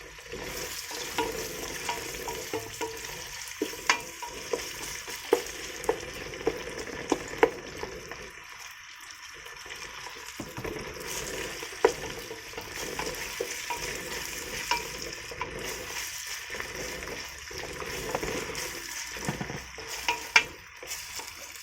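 Ginger and garlic fry in a boiling pot, giving a steady close sizzle with repeated stirring scrapes and clinks scattered throughout.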